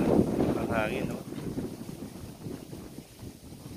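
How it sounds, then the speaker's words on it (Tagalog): Strong wind buffets the microphone beside a river in a continuous rough rumble, with brief speech early on. "Talagang ang hangin oh."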